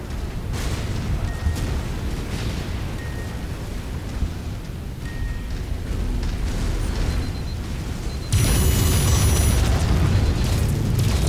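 A small building is crushed and blows up in MechWarrior 5, a steady rumbling roar of collapsing debris that surges louder near the end, with no voices.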